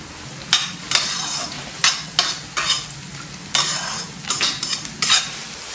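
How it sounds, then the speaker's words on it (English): Cashews, cumin seeds, onion and green chilies sautéing in a pan: loud close sizzling with repeated bursts of stirring and scraping from a spoon at an uneven rhythm, no talking. "handful of cashew nuts, a teaspoon of jeera, 1 medium-sized onion, and 3 green chilies. I saute it until it's translucent"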